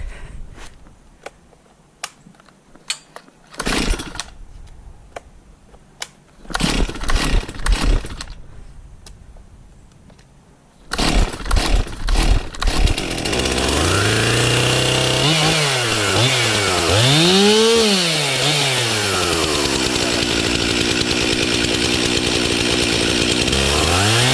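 A chainsaw mill's engine is pulled over with several sharp cranks, then catches and runs loud and steady, its pitch rising and falling as the throttle is worked, close with no talk.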